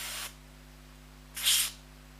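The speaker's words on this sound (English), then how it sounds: "do two sprays" Two short aerosol lubricant sprays hiss onto the frame rails of an airsoft gas blowback pistol, a brief burst followed after a pause by a louder, longer one, with no talk.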